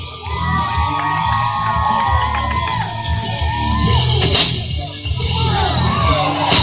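Crowd at the 2014 Grange Fair cheering for a martial arts performer, a dense wash of shouts, whoops and children's yells that stays loud and continuous throughout.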